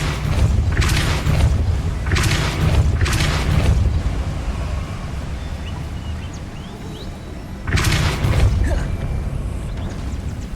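Depulso spell blasts in the Hogwarts Legacy video game on PS5, loud booming whooshes in several bursts, three bunched early and another a few seconds later after a quieter lull.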